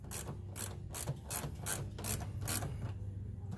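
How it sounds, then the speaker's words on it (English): Bolts on the deluxe front rock guard of a Dodge Challenger are tightened down with a ratchet, giving seven or eight evenly spaced, loud rasping clicks over a low mechanical hum, with no talking. "Just go ahead and finish tightening the bolts down"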